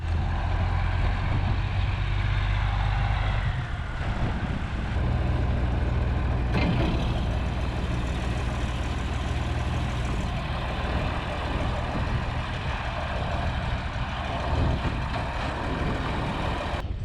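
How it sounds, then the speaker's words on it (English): A farm truck's engine idles with a steady low rumble as it backs out of a shop, joined by faint hissing and mechanical clatter, loud and constant throughout without any talk. "we're gonna back this truck out and pull the grain grinder into our shop"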